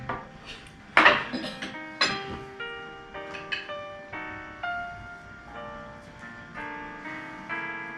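A fork and knife clink and scrape against a plate during a meal, a series of sharp ringing metallic taps with short decays, close and fairly loud, with a faint voice underneath.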